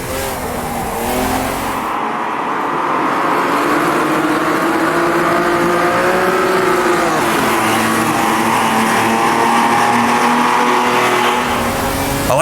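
An Opala stock car from the video game Automobilista 2 races at Bathurst, its engine roaring loud and steady as the revs rise and fall through gear changes, with other cars droning close by.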